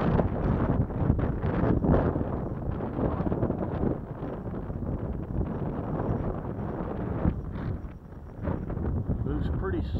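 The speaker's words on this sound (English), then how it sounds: "Pretty good gust of wind coming here, so it's whipping around a little bit" Strong wind gusting around a drone in flight over Waco, a constant heavy roar and buffeting across the microphone with muffled talk beneath it, dipping briefly near the end.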